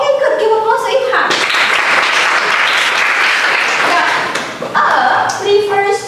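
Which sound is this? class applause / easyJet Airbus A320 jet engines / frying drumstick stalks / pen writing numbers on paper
class applause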